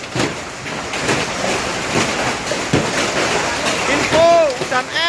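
A windy hailstorm in Lakarsantri, Surabaya roars steadily as a dense wash of rain and hail, loud and continuous, while a person talks over it and a brief squeaky tone rises near the end.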